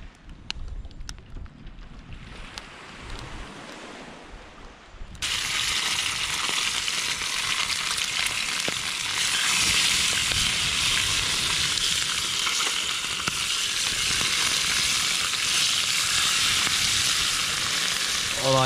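Fish frying in hot oil in a pan outdoors in a seaside cove, a loud continuous close sizzle that starts abruptly and holds steady, with faint wind and softer clicks before it begins.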